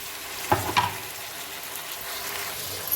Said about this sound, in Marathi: ह्याच्यात टाकली हिरवी मिरची, मोहरी आणि जिरी. आता टाकते टमाटर.